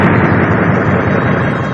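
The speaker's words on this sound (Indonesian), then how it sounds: "Getaran suara dari ledakan cambuknya meledak menggelegar" Whip-crack blast sound effect in an Indonesian radio drama, a loud booming, rumbling explosion that sustains and slowly fades over a couple of seconds.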